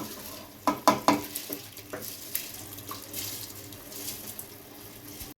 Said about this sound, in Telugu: బియ్యం పోసి మొత్తం ఇలా తిప్పుకున్నాను